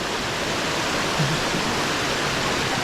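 Waterfall at Phu Tham Phra in Bueng Kan, Thailand: a continuous, even roar of falling water, loud and close, with no voices over it.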